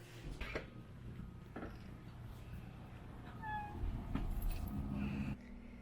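A shut-in cat yowls to be let out, giving a drawn-out meow midway through against a low indoor background hum, with no talking.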